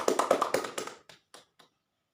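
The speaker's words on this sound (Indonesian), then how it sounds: "Beri tepuk tangan buat Evi." Short burst of applause in a fifth-grade classroom, a few quick rounds of hand claps that thin out into scattered single claps and then stop.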